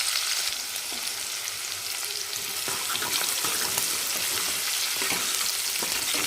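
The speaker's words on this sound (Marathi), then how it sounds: "तर कांदा चांगला आपल्याला सोनेरी कलरवर परतून घ्यायचा आहे." Chopped onion frying in a pan until golden, a steady broadband sizzle with occasional scraping stir clicks, close and fairly loud, no voices.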